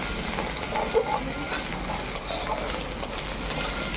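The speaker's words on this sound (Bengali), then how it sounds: "আদাটা দিলাম দিয়ে একটুখানি ভেজে নিচ্ছি আদার কাঁচা গন্ধ যাওয়া পর্যন্ত" Ginger frying in a little oil, a close, even hiss of sizzling with a few faint spoon taps spaced out across the pan, and no one talking.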